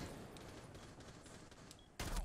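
Gunfire exchange in the video game Rainbow Six Siege: a busy, muffled rumble of distant shooting runs throughout, then a loud, close burst of shots erupts near the end.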